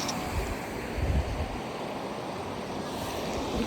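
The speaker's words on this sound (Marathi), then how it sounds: "जाता जाता आपल्याला एक मस्त अशी नदी लागलेली आहे." A river flows through monsoon jungle on a trek near Kalu waterfall. Water rushes in a steady broadband roar, mixed with wind buffeting on the microphone and a brief louder surge near the start.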